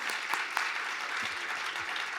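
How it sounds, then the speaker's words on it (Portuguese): Brief applause from a conference audience in an auditorium, moderate and even, with a few sharper individual claps standing out. "Palmas para os nossos parceiros, por favor."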